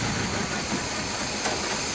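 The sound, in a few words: 1966 Chevy Biscayne big block engine revving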